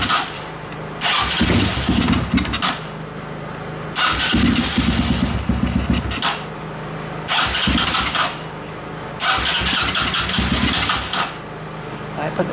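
A fuel-burning heating device with a choke cranks and fires up in repeated bursts, several loud rough engine-like runs separated by short pauses, close by.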